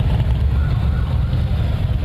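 A close, loud, steady roar of motorcycle engines rumbles as riders on the Nation of Patriots flag tour pass near Mineshaft Harley-Davidson of Pikeville, a dense low drone with no break.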